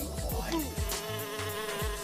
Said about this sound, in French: Saleté de mouche.